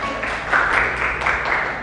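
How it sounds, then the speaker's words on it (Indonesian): A short burst of clapping from a crowd, steady and moderately loud for a couple of seconds, with no voices over it. "Tepuk tangan untuk Ferdinand dulu."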